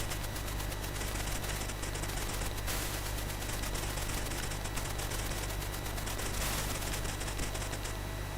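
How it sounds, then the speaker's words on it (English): Rapid, continuous gunfire from the Commodore 64 game The Train: Escape to Normandy, with dense repeating shots over a steady droning engine tone; loud and unbroken throughout, with no talk. "I'll just keep firing to keep him running"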